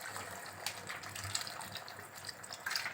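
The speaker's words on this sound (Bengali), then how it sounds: "এবার আমি এতে জল দিয়ে দেবো।" Water poured into chicken keema cooking in a pan for a chicken kima ghugni dish, a steady soft gushing splash that runs continuously and fairly quietly, with no voices.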